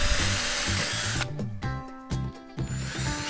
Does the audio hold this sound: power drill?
yes